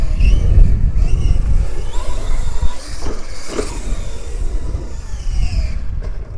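Two RC monster trucks, a Losi LMT and a Kyosho USA-1, race around a track with a backflip ramp, their electric motors whining and rumbling steadily at moderate distance, with a brief clattering crash partway through.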